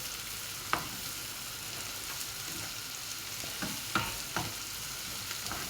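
Tomato paste fries in a pan with a soft, steady sizzle, quiet and close, punctuated by a few sharp utensil clicks and scrapes as it is stirred.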